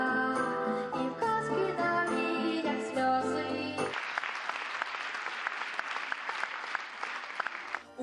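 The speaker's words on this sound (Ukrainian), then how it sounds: "І хоча діти не бачили глядачів, оплески чули гучні." Music plays for a few seconds, then gives way to sustained, dense clapping from an audience at a musical performed by blind children that continues to the end.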